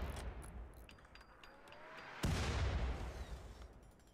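A turret in a video game fires on an enemy base with a single sharp, booming shot about halfway through, trailing off in a rumbling decay over quiet background noise.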